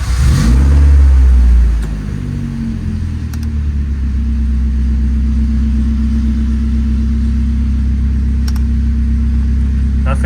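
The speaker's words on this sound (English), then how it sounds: "Maybe if we start the car." A Saab 900 engine starts with a loud cranking burst, then settles into a steady idle rumble that runs on alone.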